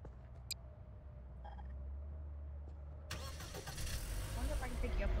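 A car engine starts up in Garry's Mod, the broadband rumble kicking in about three seconds along and running loud to the end, after a low steady hum and a few faint beeps; no one speaks over it.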